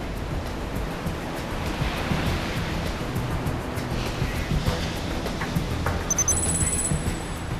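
Sea waves rise and fall beside a pilot boat off Busan port, a continuous loud rushing surge with wind buffeting the microphone and no pause.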